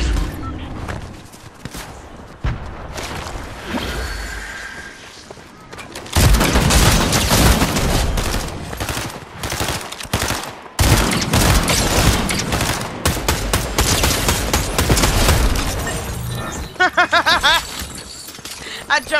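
Gunfire in Fortnite zero build gameplay, with dense bursts of rapid shots and booming blasts that come in loud waves over several seconds, while a player talks excitedly throughout.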